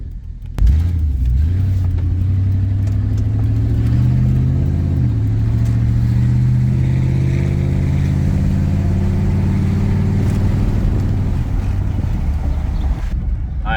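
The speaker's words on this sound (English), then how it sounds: "now I'm gonna show you what happens when I feather the accelerator, only taking what the engine gives me." A 1997 Chevy K1500 pickup's engine pulls steadily under a lightly feathered throttle, its low drone rising gradually in pitch as the truck gains speed, close and continuous with no talking.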